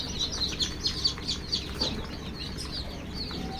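High, rapid cheeping of several native desi chicks in a brooder, a busy cluster of peeps that thins out midway, over a low background hum.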